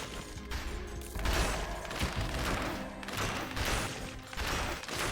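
Shooting enemies with Hokuto's bow in the video game Dead Cells: a dense, continuous barrage of rapid impacts, thuds and bursts over busy game music, moderately loud and near.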